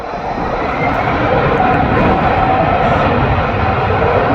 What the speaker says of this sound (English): We have Aer Lingus flying us to its new home in Terminal 2.